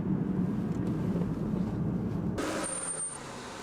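Engine of a 2009 Aston Martin DBS, a steady low rumble heard up close that continues without a break, easing slightly near the end as a brighter hiss rises over it.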